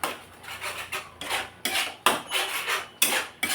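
Ground coriander and cumin stirred in a pan over low flame for chicken malai kofta, with a utensil scraping and clinking against the metal in repeated close, irregular strokes.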